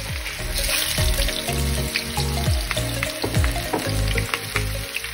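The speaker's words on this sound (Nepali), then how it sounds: "यसमा यसरी आलु हाल्न पर्छ र आलु चाहिँ क्रिस्पी हुने गरी हामीले भुट्न पर्छ" Potato pieces frying in hot oil until crispy for a spicy vegan potato dish: a loud, continuous close-up sizzle with crackling pops and occasional scraping stirs, no voices.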